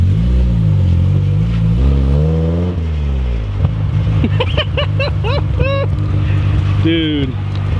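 A Nissan 240SX engine running rough on old gas, a loud droning idle with a low rumble that rises and falls in pitch as it revs, with people talking over it.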